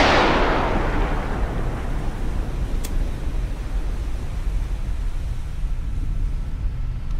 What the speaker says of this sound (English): we're going to go ahead and we're going to hit this guy in the front with the harpoon. Shoot tube 4.